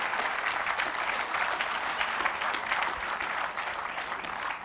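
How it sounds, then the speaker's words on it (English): Conference audience applause at a UFO conference, a dense, continuous round of clapping from a large crowd holding steady and fairly loud for several seconds. "Give another big round of applause for that."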